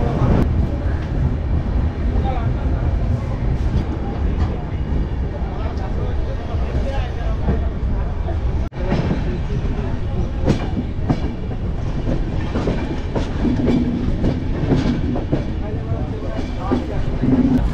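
The 12821 Dhauli Express from Shalimar to Puri rumbles along with continuous loud wheel and carriage noise, heard from onboard, steady throughout with one brief dip.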